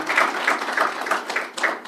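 A crowd claps in short bursts of applause at a mountain run launch event, close and fairly loud, rising and falling over a couple of seconds.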